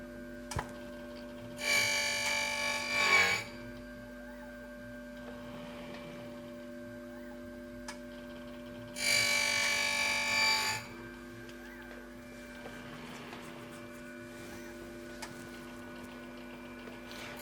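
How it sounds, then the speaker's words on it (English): A Plek Station machine cutting a guitar fret in passes: two bursts of whirring, buzzing cutting a few seconds apart over a quiet background hum with faint ticks, no talk. "The machine is going to cut that fret, and then it's going to scan again and see how accurate that cut was."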